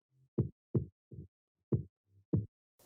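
Sidechained percussion bass shot sample from Vengeance: short, punchy low thumps in a pumping rhythm, each swelling and dropping quickly, with softer low notes between them in an otherwise silent, dry mix.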